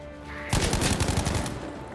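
Rapid bursts of gunfire ring out in a first-person shooter match, ending on the headshot that closes the game. The shots form a loud, dense, rattling volley that starts abruptly after a brief quiet lead-in and then tapers off.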